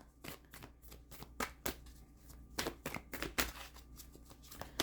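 Tarot cards being shuffled between readings, a quick run of crisp riffling flutters and snaps in uneven bursts, close and moderately loud, with no talking.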